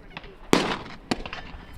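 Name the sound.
suppressed Glock 17 shot with Omega36M subsonic ammunition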